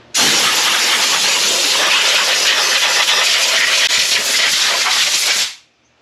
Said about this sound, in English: I'm gonna take some brake clean and just kind of clean this up a little bit.